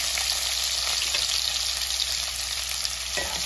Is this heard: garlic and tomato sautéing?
yes